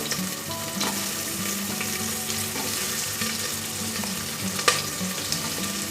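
Chopped onions and tomato sizzle steadily in a hot pan of oil for tandoori chicken, a dense crackling fry with occasional stirring clinks, close and without voices.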